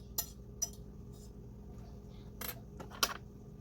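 A small spoon clinks against a container several times in scattered, light taps while gel wax is added to a layered candle, with quiet background between clinks.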